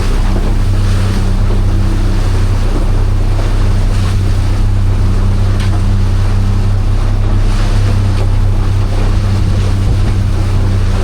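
A strong westerly wind blows over the sea from an open beach fishing boat shooting drift nets in a half gale: loud, constant roaring rush with waves and a low engine drone underneath, no talking.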